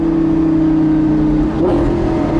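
A Lamborghini LP570 supercar engine roars under hard acceleration, its pitch climbing steadily before a brief dip as a gear changes, loud and close.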